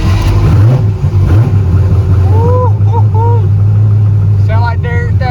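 A freshly rebuilt engine runs with a loud, steady low drone and a few quick revs near the start, with people talking over it.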